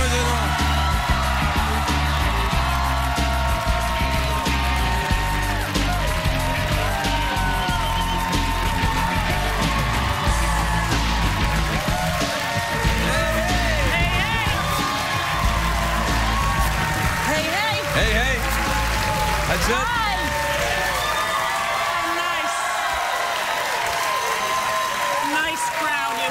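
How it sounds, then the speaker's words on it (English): A TV late-night talk show studio audience cheers, whoops and applauds loudly and continuously as a celebrity guest walks out, a dense roar of clapping and yells with voices mixed in. "They're a good crowd. On their feet."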